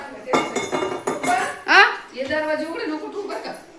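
A ceramic jar for holding salt is handled with several light clinks and taps up close, while someone talks over it.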